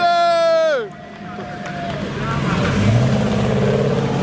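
A drift car on the track at Ustroň, its engine note sliding down sharply as it lets off, then a rougher, lower drone and tyre noise building as it keeps driving; crowd chatter sits underneath.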